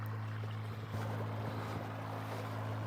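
Portable hot tub pump drawing water from a stream at a Montana campsite, a steady low mechanical hum with a constant drone running alone throughout.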